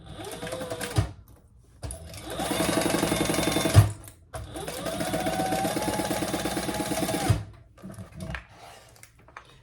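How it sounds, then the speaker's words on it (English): Sewing machine stitching down the sides of a fabric pocket for a messenger bag, two sustained runs of rapid, steady mechanical whirring with short pauses and handling sounds between them, close and clear. "we're going to sew down each side at the seam allowance in the pattern, leaving the top open for now"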